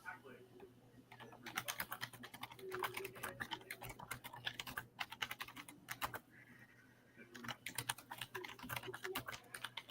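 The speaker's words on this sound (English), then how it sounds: "There's way too much typing going on." Rapid clattering of computer keyboard keys comes in dense bursts with short pauses between them, sitting over a steady low hum, while a person talks at times.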